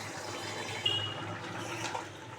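Water is poured into a pot while a fig curry (dumurer dalna) cooks with yogurt, a steady soft splashing flow lasting a couple of seconds with a brief louder splash partway through, no voices.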